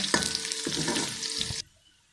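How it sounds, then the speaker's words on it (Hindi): Steady sizzling of onions frying in a pan until light brown, with a few stirring clanks, then the sizzle abruptly cuts to near silence. "थोड़ा सा प्याज को ब्राउन होने दें।"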